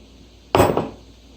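A spoon clinks and scrapes in a bowl while blueberries are stirred with a teaspoon of organic lemon juice, one close clatter lasting about half a second with no talk.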